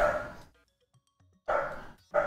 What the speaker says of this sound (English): There's a barking dog in the background.